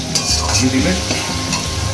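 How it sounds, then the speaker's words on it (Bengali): Ginger, garlic and green chili paste fry with onions in a pan, a loud steady sizzle with scraping stir strokes throughout, no voices. "পেঁয়াজটা ভাজা হয়ে গেছে, এখন একটু দিয়ে দিলাম আদা বাটা আর রসুন বাটা আর কাঁচা লঙ্কা বাটা"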